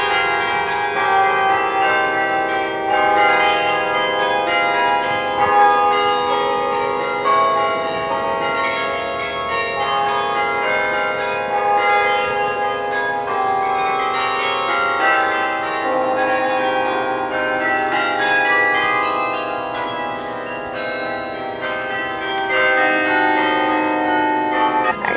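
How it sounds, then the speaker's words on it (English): The Bok Tower Garden carillon in Lake Wales, Florida rings out in a steady, continuous stream of overlapping, sustained bell tones that form a chiming melody, heard from a distance with no voices. "Was that the performance of the chiming of the 3 bells?"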